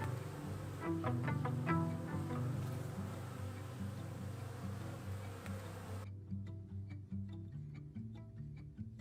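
A colony of honeybees at their hive, humming steadily and densely up close, with a continuous busy drone of many wings and occasional faint ticks.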